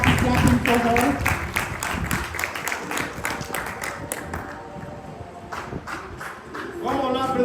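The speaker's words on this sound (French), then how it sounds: "as you are clapping for her." A church congregation claps in rhythm during a bilingual French and English service, loud and continuous for several seconds, with talk before and after the clapping.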